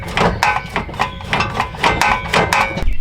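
Parking brake pedal on an Infiniti G35 pressed halfway down several times in a row, giving a quick series of close, sharp mechanical clunks and ratchet clicks, roughly a dozen evenly spaced knocks over a few seconds.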